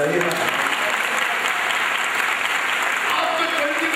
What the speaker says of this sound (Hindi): यीशु मसीह के जोरदार तालियां बजाइए।